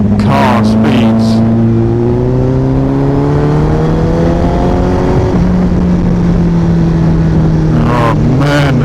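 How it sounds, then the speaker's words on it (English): A 2016 Honda CBR1000RR Fireblade superbike cruises in sixth gear, its loud, steady engine drone shifting slowly in pitch amid heavy wind rush, with a couple of brief throttle changes and a voice talking over it. "Yes, I've got a super bike and I've got to ride at car speeds."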